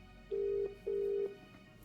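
A telephone rings out while someone is being called: two long, even electronic ring tones, clear and close, separated by a brief pause with faint hum beneath.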